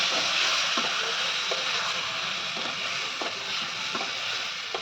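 A paste of ground ginger, cumin, garlic and onion fries with a steady broadband sizzle, broken by a few soft scraping stir strokes at a roughly regular pace.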